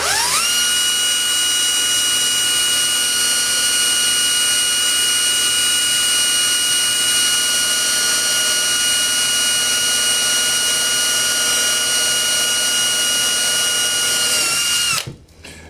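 A power drill whines steadily at high pitch for about fifteen seconds, loud and close, drilling into an RC crawler front axle, then cuts off abruptly at the end.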